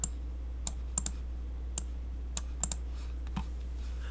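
Sparse, crisp clicks from a computer mouse during SolidWorks CAD drafting, single and double taps spaced irregularly, close and fairly quiet over a low steady hum, with no talking.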